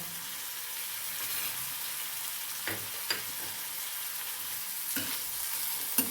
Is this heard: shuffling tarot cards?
no